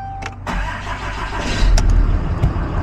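A deleted diesel truck engine with about 40,000 miles cranks and catches, then settles into a loud, steady rumbling idle with a few brief clanks near the end.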